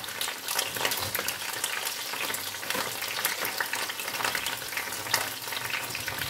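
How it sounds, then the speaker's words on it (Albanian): Okra frying in a pan, a dense, continuous loud sizzle and crackle close by, with occasional stirring scrapes and no voices. "Ndërkohë sa të skuqim pak bamjet"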